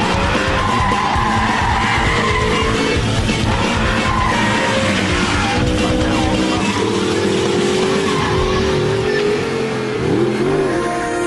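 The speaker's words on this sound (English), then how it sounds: "Lift, power, bit of a slide wall." Audi R8 sliding with its stability control switched off, tires skidding and squealing over a loud, continuous engine roar as it powers through the slide, close and intense throughout.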